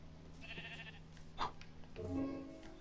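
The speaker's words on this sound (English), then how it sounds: "I hear a sheep." A sheep bleats in the Minecraft video game on PlayStation 4, a few short wavering calls heard alone against a quiet background.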